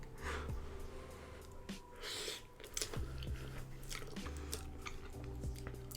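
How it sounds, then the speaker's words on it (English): Close, wet chewing and crunching of a first bite of spicy rice cake, with irregular bites and mouth sounds running steadily throughout, no talking. "let's go ahead and get our first bite in"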